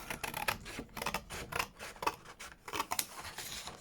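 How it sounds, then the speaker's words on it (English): Scissors snip through paper for a junk journal envelope folio pocket, a quick run of close, crisp cuts with short rustling pauses between them. "So I will cut that out"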